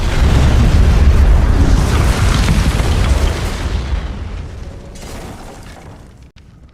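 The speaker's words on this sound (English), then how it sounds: "It was the largest man-made explosion before the invention of the atomic bomb." Massive explosion of the burning munitions ship Mont Blanc in Halifax harbor: a loud, sustained low rumbling blast that fills the first few seconds, then slowly decays into a fading roar with no voices.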